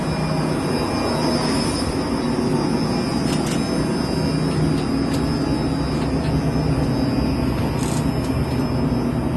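A Karvil 6000L industrial ribbon blender mixing powder and granules at maximum speed gives a steady, loud mechanical roar and hum, unbroken from start to finish, with a few faint clicks on top.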